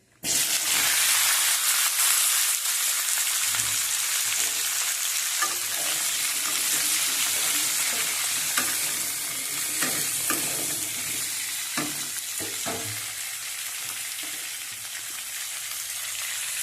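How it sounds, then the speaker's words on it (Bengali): Sliced onion, beans and eggplant hit hot oil in a pan, producing a loud, steady sizzle throughout, with occasional soft stirring scrapes close by. "দেখুন পেঁয়াজ কালি আর সিম আর বেগুন আমি কেটে নিয়েছি এগুলোকে আমি দিয়ে দিচ্ছি"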